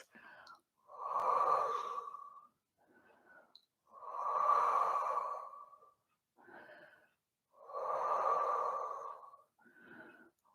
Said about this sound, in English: And just holding it here, enjoying the stretch. Nice deep breaths.